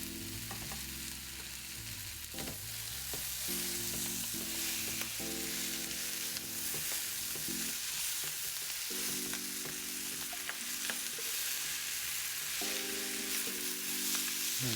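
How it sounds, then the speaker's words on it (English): Curry powder and vegetables fry and sizzle in a pan for a vegetable shrimp curry, giving a steady close hiss with occasional stirring clicks over a changing low tonal background. "I'm almost browning the curry powder that's on it"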